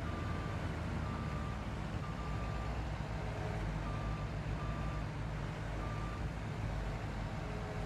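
Reversing beeps from a dumper truck in the Farming Simulator 22 video game, a steady series of evenly spaced electronic tones sounding over a continuous low engine rumble, without talk.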